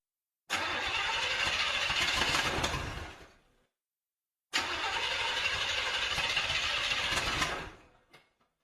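A car engine cranks and catches, roaring steadily for about three seconds before cutting out, then starts again for another three seconds and dies, heard close and loud in a radio drama after repeated motor trouble.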